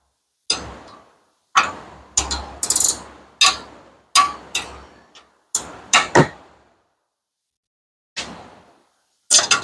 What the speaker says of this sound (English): 18 wrench ratcheting